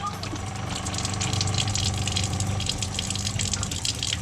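Water gushes steadily from a caravan tap in an off-grid outback setting, a loud continuous rush with a low pump hum beneath it, unbroken for several seconds.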